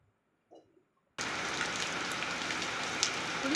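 Steady heavy rain pours down at a home kitchen, starting abruptly after a brief faint sound and then continuing as a dense, even hiss with occasional louder drops, close and alone.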